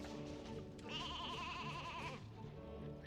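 A sheep in the video game Banjo-Kazooie: Nuts and Bolts gives one drawn-out, wavering bleat. It sits over steady game music and background ambience and is clear and fairly close.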